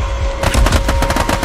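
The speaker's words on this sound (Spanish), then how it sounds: "Sigue disparando, sigue disparando." Loud, continuous rapid gunfire in the video game Army of Two, a dense run of evenly spaced automatic shots close up, with no voices.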